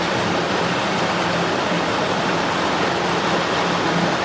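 Water rushing fast and shallow through a laboratory flume channel in supercritical flow, a steady, loud broadband hiss with no change from start to finish and no voices.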